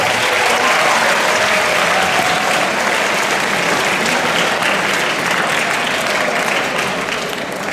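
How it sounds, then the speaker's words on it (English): A school audience at a World Water Day presentation breaks into loud, sustained applause, a dense wash of many hands clapping steadily throughout with no voices on top. "A round of applause for all of you."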